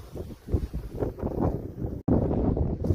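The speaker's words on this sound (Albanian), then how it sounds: "her pas here fryjnë era të forta" Strong wind buffets the microphone in loud, rumbling gusts, with a brief dropout partway through.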